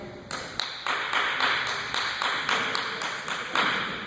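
A classroom volunteer claps out a steady, fairly even rhythm of about a dozen sharp claps in four seconds, close and clear with a light room echo and no voices over it.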